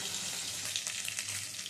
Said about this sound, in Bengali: এবারে এপিটটাও ভালো করে একটু ভেজে নেব।